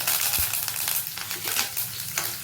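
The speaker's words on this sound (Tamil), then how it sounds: "கொஞ்சம் வதக்கி விட்டுக்கிறேன்." Garlic, green chilli and curry leaves sauté in hot oil after mustard seeds have popped, giving a steady close sizzle with a few sharp crackles and pops throughout.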